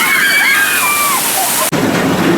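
Water rushes and sloshes steadily on the River Rapids raft ride at Six Flags Fiesta Texas, a loud close wash of spray with faint voices over it and a brief dropout near the end.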